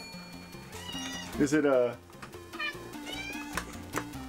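Cats meow at treat time, with a prominent meow rising through the middle and a few fainter cries, heard under steady talk and background music.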